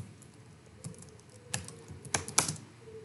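A computer keyboard being typed on while a sentence is entered, with irregular clicky keystrokes, sparse at first and then denser, heard up close with no talking.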